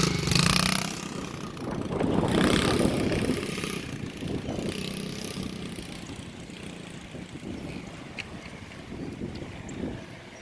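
A kid's dirt bike engine drones steadily through wind buffeting, loudest early on and then easing to a softer, even hum as the rider pulls away.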